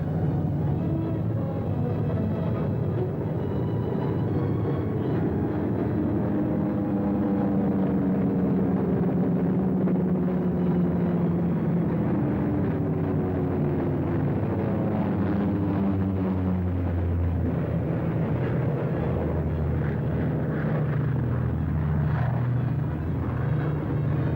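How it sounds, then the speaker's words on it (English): Returning WWII bomber aircraft drone overhead in a wartime Aleutian Islands setting, a loud continuous rumbling engine roar with shifting tonal hum, steady throughout. "Bombers went out, and 6 are coming back."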